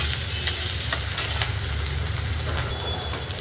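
Cumin and mustard seeds sizzle in hot oil in a pan for a Maharashtrian besan pitla, a dense steady crackle with scattered sharp pops, close and continuous, with no talking.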